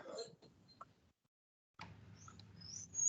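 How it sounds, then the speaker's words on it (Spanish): Small birds chirp in short, bright bursts, fairly faint and intermittent with a silent gap midway, against a quiet room background during an online class. "Ya, Gisele, ya que tus pajaritos están cantando ahí"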